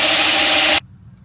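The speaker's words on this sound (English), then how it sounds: "we're drilling a couple pilot holes for the front of the bracket" A power drill whirs loudly at high speed drilling pilot holes for a shock bracket on a Sprinter van, then stops abruptly, leaving near silence.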